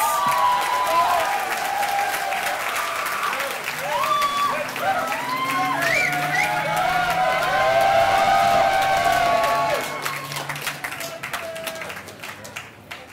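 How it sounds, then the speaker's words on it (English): Graduates at a university commencement ceremony are met with sustained crowd applause and some cheering, with tonal sounds and voices woven through before the clapping thins toward the end. "And let's give a round of applause to our IPAM graduates."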